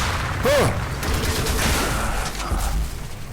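Gunfire in the shooter video game Section 8 Prejudice, sustained rattling bursts of weapon fire with mechanical clatter, fairly loud and continuous through the whole stretch, no talk over it.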